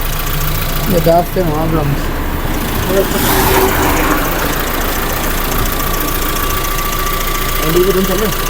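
An old car under restoration idles with a steady, slightly knocking engine hum while its radiator fan runs, and people talk nearby over the engine.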